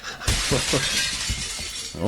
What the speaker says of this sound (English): If that's a window smashing, it might be let some air in there